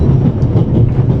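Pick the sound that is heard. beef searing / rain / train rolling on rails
train rolling on rails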